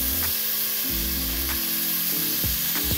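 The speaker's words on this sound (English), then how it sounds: "we got our heat on high because we want to get a good sear on these" Oxtail searing in a pan over high heat, a steady loud sizzle running through the whole stretch with a few sharp clanks and scrapes as the pieces are flipped.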